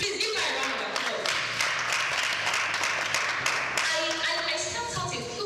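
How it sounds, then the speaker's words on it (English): An audience at a business conference on credit infrastructure in Africa claps steadily, a dense patter of hands that runs under voices talking throughout. "Let's please give me a round of applause."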